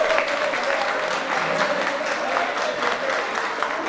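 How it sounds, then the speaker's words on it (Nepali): A crowd at an award ceremony for a national photo competition gives loud, sustained applause, with dense, even clapping filling the room from start to finish. "यहाँबाट जोरदार तालीको अपेक्षा गर्छु।"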